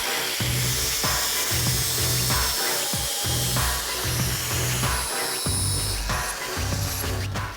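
Sheet metal being cut off a 1973 Buick Century body with a power tool, a steady loud grinding buzz broken by short pauses and restarts throughout, close by with no talking.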